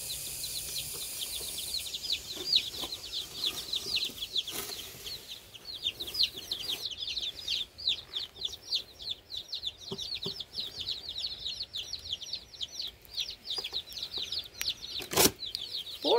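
Baby chicks chirp in a busy, continuous chorus of high peeping, with a few soft thumps and rustles nearby.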